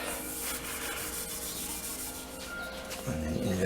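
Brass being sanded by hand to take out pit marks, a steady continuous rubbing and scraping that runs without a break from start to finish, growing slightly louder toward the end.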